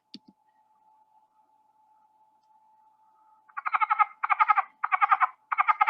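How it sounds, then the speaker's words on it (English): A southern leopard frog gives a twangy, chuckling call from its paired vocal sacs: four loud bursts of rapid clicking pulses in a steady rhythm, close and clear. Before them a faint steady tone and a couple of brief chirps sound. "Southern leopard frog."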